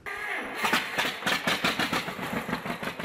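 A propane-fueled John Deere 620 tractor engine chugs on a Texas farm, a loud, close, pulsing two-cylinder putter with uneven firing beats that strengthen after a brief quiet start.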